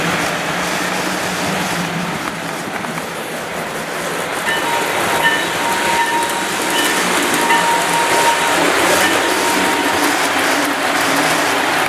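A Lionel model freight train in New York Central livery runs steadily along its track, a continuous loud rolling rumble with rhythmic clicking of wheels, its bell ringing faintly above the running noise.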